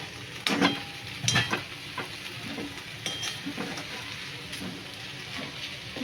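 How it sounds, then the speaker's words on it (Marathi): Wild vegetable (bharangi) being stirred in a pan with a spoon, giving several distinct scraping strokes over a steady low sizzle of frying, close and fairly loud with no talking. "हे बघा झाकण काढून एकदा परत ढवळून घेऊया भाजी"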